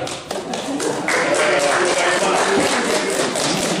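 An audience at a gathering honouring a newly elected president breaks into steady applause, a busy continuous crackle of many hands mixed with someone talking over it.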